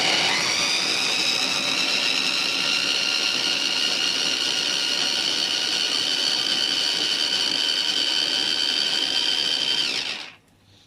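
A blender blitzes onions, garlic, thyme, peppers and olive oil into a yellow pepper coulis, a loud steady high-pitched whir running continuously for about ten seconds before cutting off abruptly.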